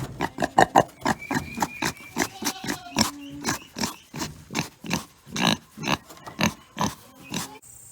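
A pig on a farm gives a rapid run of short rhythmic grunts, close and fairly loud, pulsing steadily for several seconds.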